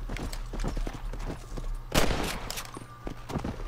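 Gunfire in the video game Red Dead Redemption, a string of sharp shots and cracks scattered over a steady low rumble, with one loud burst standing out midway and more pops trailing after.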